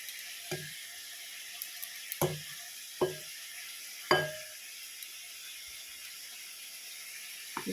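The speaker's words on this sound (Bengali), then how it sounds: "কালো জিরে আর এই আদা রসুনের পেস্টটা দেবো একটু।" Ginger-garlic paste and black cumin sizzle quietly in hot oil, a faint steady hiss broken by several sharp clinks and knocks of a utensil against the pan; no voices.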